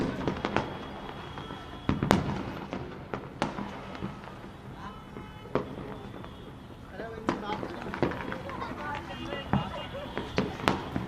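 Bursts of fireworks and firecrackers crackle and pop at a Makar Sankranti celebration in Jaipur, with sharp irregular bangs near and far throughout and a voice talking underneath.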